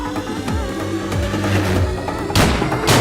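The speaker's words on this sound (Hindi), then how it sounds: "कोई ऐसा गोली चलाता है क्या?" Gunfire in a South Indian action comedy film scene: a couple of sharp, loud bursts near the end of the clip, cutting through dense background music.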